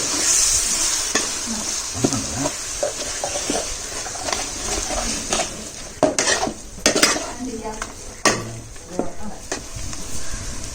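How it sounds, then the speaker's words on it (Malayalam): Ginger garlic paste is sautéed with tomato in a pan for Malabari chicken dum biryani: a steady sizzle with a spoon repeatedly scraping and clinking against the pan, close by. "ഇതിലേക്ക് നമ്മുടെ ജിഞ്ചർ ഗാർലിക് പേസ്റ്റ് ചേർത്ത് വഴറ്റാം"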